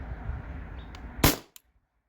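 A single sharp pneumatic shot from a modified Valken M17 paintball marker, a crisp close crack with a short hiss of decay, then silence.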